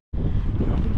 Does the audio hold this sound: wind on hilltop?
yes